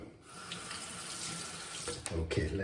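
Water runs steadily from a tap into a sink for a few seconds after a straight razor shave, with a louder splashing burst near the end as hands go under the stream.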